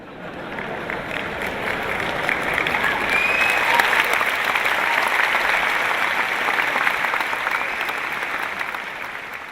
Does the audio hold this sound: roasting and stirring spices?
no